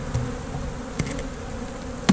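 Honey bees buzzing steadily at an opened beehive during a January hive inspection in South Carolina, a close, dense drone with a few brief louder bumps and knocks.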